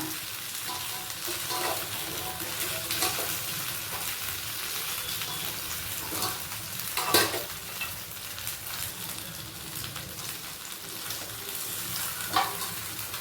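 Pieces of Kashmir chicken fry in hot oil with a continuous crackling sizzle and scattered pops, with a few louder bursts as pieces are moved or turned; no speech over it.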